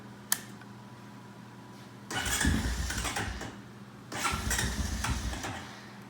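A 2014 Honda Recon TRX250TE ATV after servicing in a shop with a fan running, heard over steady fan noise as a click and then two cranking bursts of about two seconds each, the small engine churning without settling into an idle.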